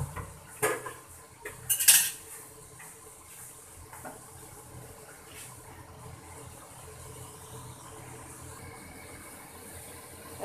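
Chicken meat tipped into a pan of cooked-down spices, a few loud metallic clanks and clatters of utensil and pot early on, then a low quiet background hiss with no voices.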